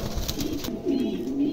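Pigeons, a pair of large adults, coo close by in low soft rolling calls, repeated and overlapping against faint background noise.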